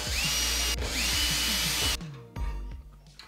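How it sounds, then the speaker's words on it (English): A power screwdriver removes screws from a PC case so a graphics card can be installed, giving short whirring bursts in a rapid run before it stops, followed by a few light clicks and handling sounds. "We gotta remove a couple screws to get there"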